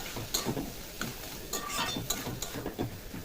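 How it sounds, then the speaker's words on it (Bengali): A spoon stirs potatoes in a covered cooking pan, with scraping and clinking strokes at an irregular rhythm over a faint sizzle, close and alone. "আমি একটু খুলে আলুটাকে নেড়ে দেবো।"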